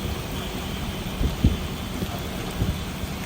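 Rain falling in Makkah under cloudy skies, a steady hiss of rainfall with a few low thuds and rumbles in the middle.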